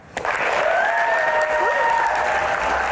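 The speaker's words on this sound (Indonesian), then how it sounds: "Tepuk tangan lagi" A studio audience at a music Q&A show bursts into applause for a guest. It starts abruptly and holds a steady, close clapping wash, with a sustained musical tone or feedback line running underneath.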